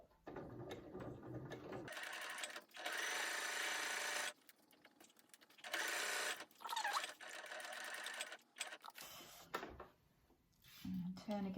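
A sewing machine stitches a zip onto a cushion in several short bursts of running, each a second or two long, with pauses between them and quiet talk before and after.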